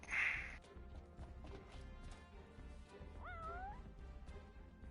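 A single short cat meow with a rising, wavering pitch sounds faintly over a low game ambience in Final Fantasy XV Royal.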